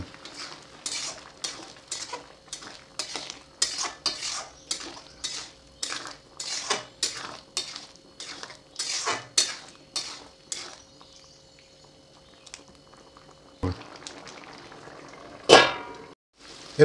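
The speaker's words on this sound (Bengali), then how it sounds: "এবারে নেড়ে নেবো বন্ধুরা" A utensil stirs sukto vegetables in a cooking pot, making a steady run of rhythmic scraping and clinking strokes, then a pause and a few louder clanks near the end; no voices.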